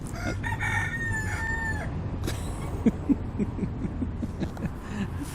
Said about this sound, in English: There's a cockerel on the side of us who's just started to cock-a-doodle-doo, and Rasha's a bit, what's going on?